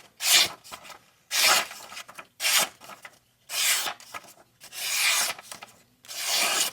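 A Remette RT-Meteor pocket knife slices through paper in six or seven separate strokes, each a loud, close rasping swish of about half a second to a second, with short silent gaps between them.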